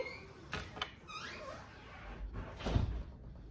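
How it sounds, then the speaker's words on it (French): A door in a busy house creaks and squeaks as it moves, then shuts with a dull thud near the end, with a few softer knocks before it and no talk. "Désolée pour le bruit de porte."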